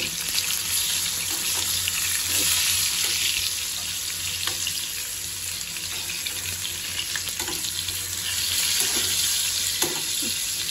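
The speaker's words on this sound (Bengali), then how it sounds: "বেগুনটা ভাজা শুরু করে দিলাম" Eggplant frying in oil in a pan, a continuous loud sizzle with occasional soft clinks and stirring taps, close up and without speech.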